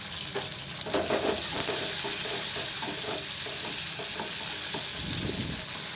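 Capsicum being stir-fried in a wok for chili chicken, with a steady loud sizzle and repeated scraping stirs throughout, no talking.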